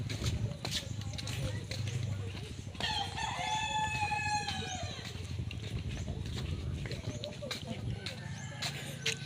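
A rooster crows once at moderate distance, a drawn-out call lasting about two seconds, over steady outdoor background noise with people talking.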